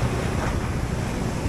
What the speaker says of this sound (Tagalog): hintayin natin na kumalma yung dagat o yung maliliit lang yung alon ba